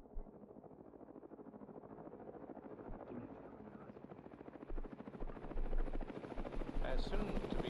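A helicopter drones over a combat scene as its rotor chop steadily grows louder and nearer. Voices and other noises mix in beneath it.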